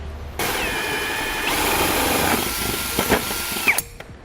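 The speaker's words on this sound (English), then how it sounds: "Now I'm going to be using a hole saw" A hole saw cuts through the plastic bumper fascia of a 2013 Mini Clubman during a trailer hitch install, a steady loud whirring drill grind for about two seconds, then slowing with a few sharp knocks and squeaks as it finishes.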